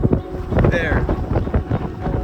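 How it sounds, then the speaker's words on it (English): Strong gusting wind in a tornado storm, loud buffeting roar against the microphone in uneven bursts, with a voice talking over it. "And the wind is bonkers."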